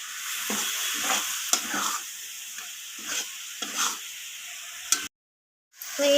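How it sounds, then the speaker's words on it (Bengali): A spoon stirs a coconut and jaggery filling in a pan, scraping in soft repeated strokes over a low sizzle before a short break of silence near the end. "তো আবারও আমি নাড়াচাড়া করে নিচ্ছি।"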